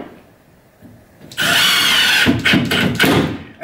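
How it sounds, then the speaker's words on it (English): A power drill drives a countersunk screw into timber backing for a drywall patch. After a quiet lead-in it starts with a sudden loud whir, then a strained, stuttering grind as the screw seats, heard up close. "And we want to countersink that screw"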